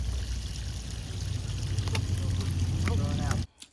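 Rainwater flows steadily out of a rain-collection bucket in an off-grid spring garden, a continuous pouring, trickling wash heard close for most of the clip before cutting off near the end, with brief voices faintly under it.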